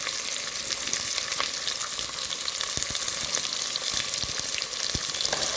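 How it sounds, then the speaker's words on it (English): Onion and scallion sautéing in a pan, a continuous close sizzle with frequent crackles and light stirring taps throughout, with no voices. "And I'm gonna saute this, allow it to get tender."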